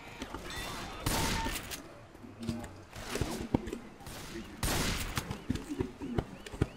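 Shotguns and rifles fire in repeated bursts and single cracks while fighting zombies in Left 4 Dead 2, loud and close, with game effects and brief voices in the mix.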